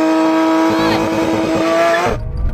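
A VW 1303 and a Porsche launch off the line in a race, engines revving hard and loud with a rising whine, then cutting off abruptly into rumbling noise.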